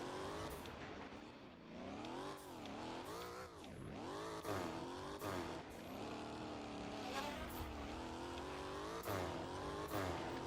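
Mazda RX-7 in the game Fix It Up, its engine droning loud and close with the pitch rising and falling repeatedly as it revs and shifts, punctuated by brief sharp bursts.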